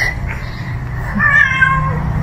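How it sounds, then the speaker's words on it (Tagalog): A cat meows several times close by, a clear drawn-out cry followed by a second rising call over a low background hum. "may pusa dito"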